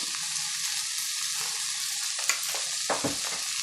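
Chopped vegetables and mint fry in hot oil for purple cabbage fried rice, giving a steady, close sizzle with a few sharper crackles and light stirring clicks near the end.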